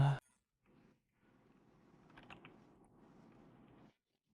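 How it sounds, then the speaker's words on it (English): Screws being fitted back into a MacBook Air A1932 during a screen replacement, with a short sharp click, then soft faint mechanical whirring and creaking of a driver turning, quiet and close. "We start putting the screws back as they were before."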